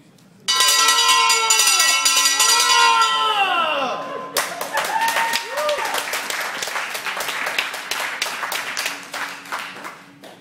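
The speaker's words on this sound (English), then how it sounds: "can go ahead and ring the bell" A handbell rings loudly and close for several seconds, its tone ringing on as a crowd bursts into clapping and cheering that carries on until the end.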